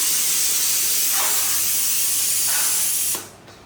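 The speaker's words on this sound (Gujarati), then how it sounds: "આ કુકરની સીટી સવારમાં વાગવા મળી" A pressure cooker whistle lets out a loud, continuous steam hiss for about three seconds, then stops abruptly, leaving quiet behind.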